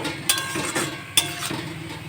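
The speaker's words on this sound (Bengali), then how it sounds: "এখন আমি এগুলোকে সব একসাথে ভালো করে নেড়ে চেড়ে" A spoon scrapes and stirs chhena kofta masala in a pan, with a few sharp clinks of metal against the pan between soft sizzling, close and quiet.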